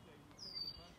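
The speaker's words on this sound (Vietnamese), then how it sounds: "Đây các bạn nghe thấy chim rừng kêu không?" A single short, high chirp from a forest bird near Vernonia Lake, Oregon, rises briefly out of a quiet, faintly rumbling outdoor background.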